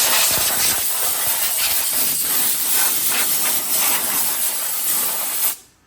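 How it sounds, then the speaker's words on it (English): Shop air hose blasting debris off a valve cover on a Ford 292 Y-block engine, a loud continuous close hiss with slight pulsing, cutting off abruptly at the end. "you got an air hose and some air, shop air"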